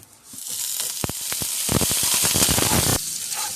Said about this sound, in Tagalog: painitin lang natin ang kawali. Pag mainit na, lagyan na natin yung hotdog.